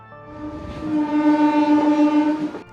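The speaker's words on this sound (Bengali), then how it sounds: "অবশেষে আমাদের ট্রেন এখন এসে পৌঁছালো আজিমগঞ্জ সিটি রেলওয়ে স্টেশনে।" The Kanchanjungha Express sounds a long, loud horn blast as it arrives at Azimganj City railway station, with a steady tone that swells and fades over rumbling carriages.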